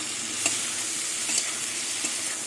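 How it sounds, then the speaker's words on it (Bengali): Spices and boiled potatoes frying in oil for an okra curry, a steady close crackling sizzle with a few soft scrapes of stirring; no voices. "মশলা দিয়ে কষাতে কষাতে তেল ছেড়ে দিয়েছে ভালো করে কষিয়ে নিয়েছি"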